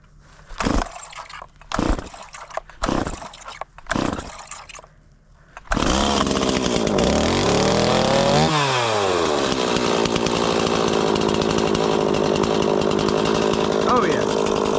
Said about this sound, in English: Oh yeah, fired right up.